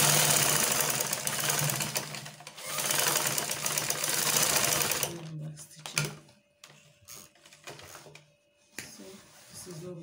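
A sewing machine stitches the facing of a shift dress in rapid mechanical bursts, a busy whirring run for about five seconds followed by shorter stop-start stitching separated by quiet gaps, close and moderately loud.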